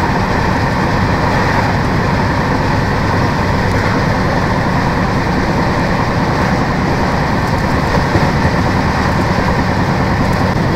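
Dehradun Jan Shatabdi express train running at 110 km/h, heard from the open door: a loud, steady roar of wheels and rushing air with continuous rumbling rail noise throughout, no voices.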